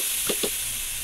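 A steam vent in the horror game Home gives two short, close bursts of hiss over a loud, steady high wash of noise, with no voices.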